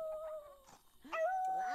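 Sad dog whimpering and howling in The Sims 2, thin wavering whines that slide in pitch, fairly faint, with a short break midway.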